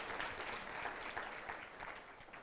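A lunchtime keynote audience claps for an idea, a soft, dense roomful of applause heard from a distance, steady throughout and fading slightly at the end.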